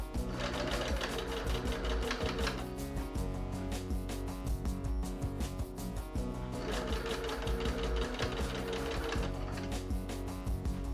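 Sewing machine topstitching the seams of a sailor beret, running in a steady, continuous mechanical whir with rapid needle rhythm, loud and close throughout with a brief easing in the middle.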